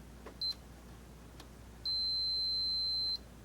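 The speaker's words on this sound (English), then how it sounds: "we'll come up here and see if we get a beep" A multimeter in continuity mode, probing a circuit board, gives a short high beep and then a steady beep about a second long, clear and close over a quiet background.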